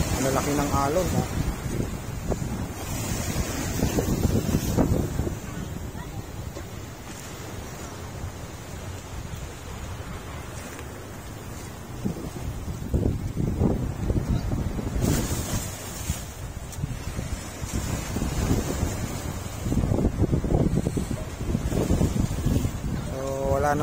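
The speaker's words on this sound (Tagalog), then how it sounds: "ang lalaki ng alon" Big ocean waves breaking at a beach in Tanza, Cavite, a broad rolling roar with surges and wind buffeting the microphone, while people chat nearby.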